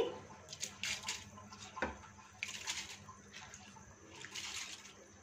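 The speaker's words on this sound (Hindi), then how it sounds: "इसका ऊपर का पानी गिरा देंगे और चावल को एहतियात से इसमें शामिल करेंगे।" Soaking water being poured off rice into a cooking pot while making chicken pulao, soft intermittent splashing and trickling bursts with a faint clink.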